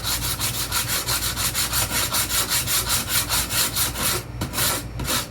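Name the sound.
sanding accordion register switch with sandpaper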